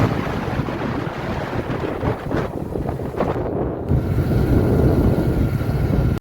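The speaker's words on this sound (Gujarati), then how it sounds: "ઠંડો ઠંડો પવન આવે છે" Steady cool wind rushing across the microphone outdoors in farm fields, a broad continuous roar that swells slightly louder toward the end, with no voices.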